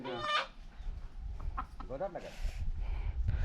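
A village rooster clucks and squawks in agitated bursts during a chase outdoors, close and fairly loud, with people talking and calling over the bird's cries.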